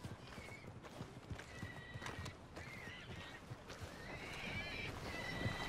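Horse hooves clip-clop at a steady gallop in the open-world western game Red Dead Redemption 2, joined by whinnies and neighs. The whole scene plays quietly, with a brief voice in the background.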